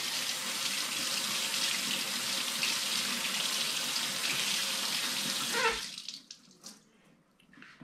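A bitter melon is rinsed under a running kitchen tap, with a steady, close rush of water that cuts off near the end, leaving a few soft handling sounds and drips.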